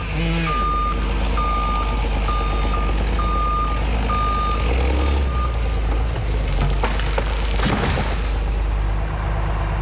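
A logging skidder idles and rumbles loudly close by in the woods, its reversing alarm beeping in a regular series for the first few seconds over the constant engine drone.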